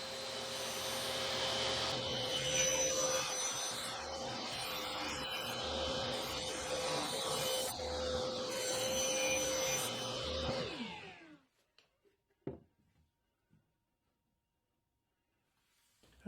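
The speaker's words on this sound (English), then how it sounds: "I need to cut the bottom to make sure it's absolutely parallel to the top" Power saw trimming a thin slice off the bottom of a solid wood box joint box, a steady loud whirring cut lasting about eleven seconds, then stopping, followed by a few faint knocks and near silence.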